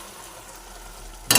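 Masoor dal is poured into a hot pan of kalmi shak (water spinach), bursting into a sudden, loud sizzle near the end after a quiet stretch of low kitchen hiss.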